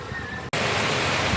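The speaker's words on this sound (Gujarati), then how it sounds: "વરસાદ ચાલુ થઈ ગયો" Steady rain falls close by, a dense even hiss that starts abruptly after a brief moment of quiet and continues without a break.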